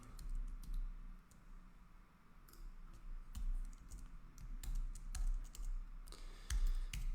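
Fingers type on a computer keyboard in an irregular run of soft clicks and key presses, faint and close in a quiet room, with no one speaking.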